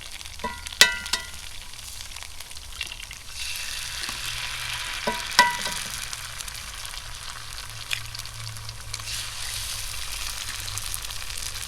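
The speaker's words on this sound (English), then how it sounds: "Now we're just going to put our eggs directly in the same pan." Eggs fry in a pan that already holds browned Spam, giving a steady close hiss and sizzle throughout with a few sharp clinks and scrapes of a utensil against the pan near the start.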